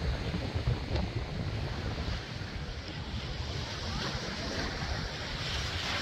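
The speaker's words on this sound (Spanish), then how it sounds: "Una de las mejores maravillas y una de las mejores playas del mundo." Waves wash onto the white-sand beach at Bahía de las Águilas in Pedernales, a steady, dense rush of surf with wind noise over the microphone, close and continuous, with no voices.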